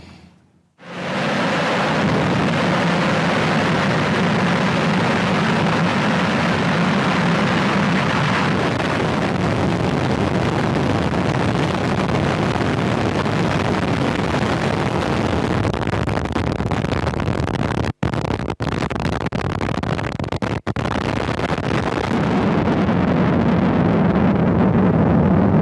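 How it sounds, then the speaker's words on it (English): Rocket launch in Kazakhstan carrying the Scottish-designed UCube-1 satellite: a loud, sustained broadband roar rises within the first second and rumbles steadily for the full span, with a few brief dropouts near the end. "here's the moment the Scottish-designed satellite was launched into space from a rocket in Kazakhstan"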